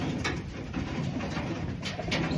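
Pigeons cooing close by, soft throaty murmurs repeating over a steady, noisy background hum; one pigeon has a swollen eye from one-eye cold.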